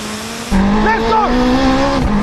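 A 1,000hp all-wheel-drive Honda and a Porsche 918 Spyder launch side by side in a drag race, engines jumping from idle to a loud roaring surge with rising revs and gear changes, close by, with voices underneath.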